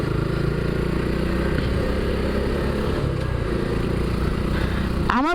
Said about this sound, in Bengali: বাট আপনারা কি এক্সজস্টের সাউন্ডটা পাচ্ছেন?